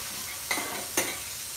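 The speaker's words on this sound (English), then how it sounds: "a chef's spoon of oil. And let's get our ginger and garlic paste in there." Ginger and garlic paste sizzles in hot oil in a pan, a constant hiss broken by two sharp spoon clacks against the metal, close and without talk.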